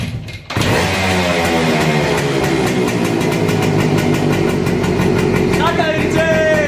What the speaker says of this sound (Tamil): அதை டைட் வச்சுட்டே ஸ்டார்ட் பண்ணுறேன். அப்போ தான் ஃப்ளோ இருக்கும். வாங்க வண்டியை ஸ்டார்ட் பண்ணலாம்.